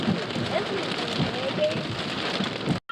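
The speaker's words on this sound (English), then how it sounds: "it looks like it's already started raining" Steady rain falls outdoors in a dense, continuous hiss of drops pattering on surfaces, close and even throughout before cutting off abruptly at the end.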